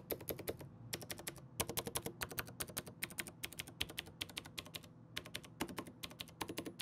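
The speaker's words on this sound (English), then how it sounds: "And then here are the Cherry MX Greens without the metal keycaps." Rapid bursts of typing on Cherry MX Green switches with the metal keycaps removed, crisp clicky keystrokes in fast clusters separated by short pauses, close and alone.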